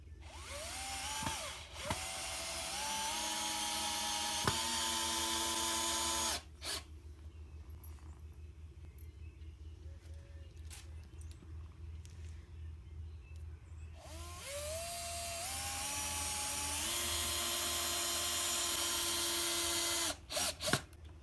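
Power drill sinks screws into wood for a DIY rifle target stand, two long whirring runs that climb in pitch as each screw seats, separated by a quieter pause, with sharp clicks at the starts and stops.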